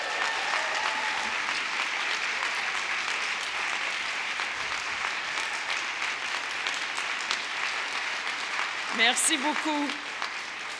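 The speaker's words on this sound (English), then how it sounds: "Please stand up and give those people a big round of applause." Graduates applauding their supporters at a ceremony, loud sustained clapping throughout with a voice speaking briefly near the end.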